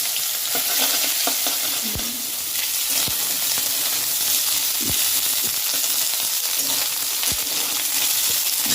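Vegetable stalks and ginger fry in oil already spiced with mustard seeds and radhuni for sukto, giving a continuous close sizzle with occasional stirring scrapes and pops.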